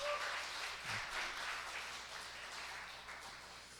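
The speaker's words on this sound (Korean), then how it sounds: "격려 박수 한번 해주시죠." Audience applause during a church worship service, a steady patter of clapping heard from a distance and fairly faint, tapering gradually over a few seconds.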